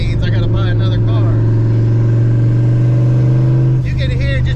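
Turbocharged Fox Body Mustang pulling hard from inside the car, engine note climbing steadily and loud for several seconds before easing off, with voices talking over it at the start and end.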